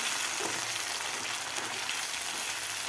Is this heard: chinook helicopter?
no